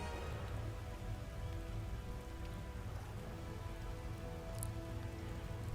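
The Frozen Rain spell in the strategy game BFME gives off a dense, continuous hiss of falling rain that holds steady and fairly loud throughout, with no voices over it.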